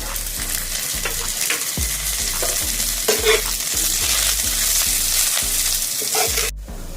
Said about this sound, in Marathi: हे आल्याचे तुकडे टाकून घेऊ आणि याला छान भाजून